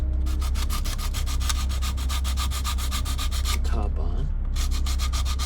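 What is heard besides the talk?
sanding a wooden model ship part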